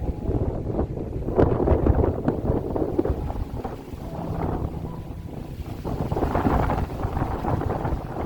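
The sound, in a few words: strong wind gusts over a lake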